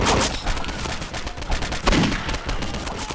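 Rapid gunfire from Postal 2, a steady stream of close shots and bangs running throughout, loud and continuous with no talking.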